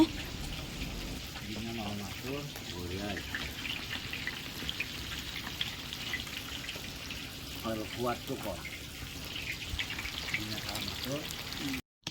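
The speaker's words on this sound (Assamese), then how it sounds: "এয়া মাছ ভাজি আছে অহাকালিৰ কাৰণে।" Fish fries in a pan with a steady, fine crackling hiss that stays close and even throughout, while people talk intermittently over it.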